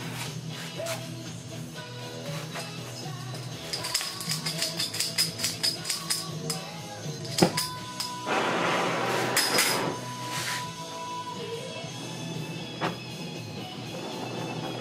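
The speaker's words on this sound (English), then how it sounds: "take another piece of aluminum, a little flat piece, and I'm going to flatten it out" A small flat piece of aluminum is hammered flat, giving a rapid run of sharp metallic strikes in the middle followed by a dense grinding burst and scattered knocks, close up with no talk.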